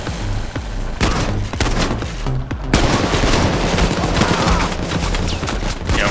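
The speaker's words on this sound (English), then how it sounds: "There's been a lot of shooting." Dense, loud gunfire in the video game Payday 2 during a heist, with rapid overlapping shots and automatic bursts running continuously throughout.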